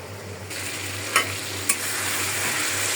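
Eggs frying in a pan with mustard oil, a steady soft sizzle running throughout with two brief sharper crackles, close and fairly quiet, no voices.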